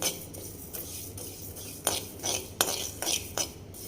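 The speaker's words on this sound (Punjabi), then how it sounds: "ਰਾਈ ਪਾਉਣ ਤੋਂ ਬਾਅਦ ਆਪਾਂ ਇਹਨੂੰ ਥੋੜਾ ਜਿਹਾ ਜਰੀ ਹੋਰ ਹਿਲਾਵਾਂਗੇ" Mustard seeds stirred in a pan for bitter gourd pickle, with soft scraping and a few sharper metallic clinks of the utensil against the pan, close and fairly quiet.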